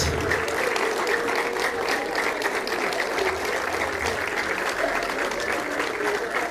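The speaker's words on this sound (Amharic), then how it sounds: "ጭብጨባ።" Sustained applause from a large audience at a tribute for an artist, dense steady clapping throughout with no speech over it.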